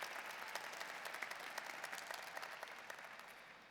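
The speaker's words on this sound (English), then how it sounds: "A big round of applause for our staff and President Aquino Diaz." Crowd applause for staff at a university commencement ceremony, dense clapping heard from a distance and fairly faint, steady and fading slightly toward the end.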